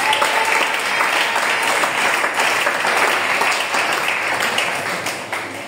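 A church congregation at a French-language prayer service applauds and acclaims the Lord, steady loud clapping mixed with cheering that holds for several seconds before easing slightly at the end.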